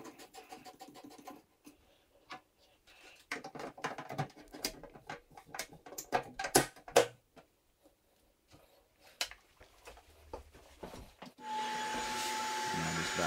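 Vacuum cleaner starting up in a bathroom after work on an exhaust fan, preceded by scattered clicks and knocks, then a loud steady whooshing drone that runs to the end.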